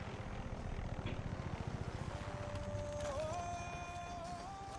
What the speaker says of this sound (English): Come on, helicopter. Fly away.